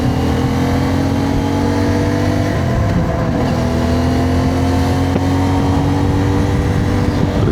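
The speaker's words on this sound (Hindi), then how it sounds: "कि शहर में कितनी ट्रैफिक है." Road traffic on a city street in Islamabad, with vehicles passing steadily, engine hum and tire noise rising and falling around a constant moderate roar, with no talk.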